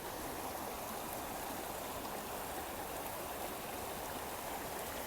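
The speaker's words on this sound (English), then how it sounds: "You can hear the water, can't you?" Keckwick Brook runs over its bed with a steady, close rushing and gurgling, an even wash of flowing water with no voices over it.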